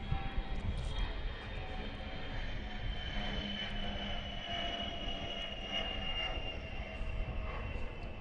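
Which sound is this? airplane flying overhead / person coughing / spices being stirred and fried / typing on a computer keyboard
airplane flying overhead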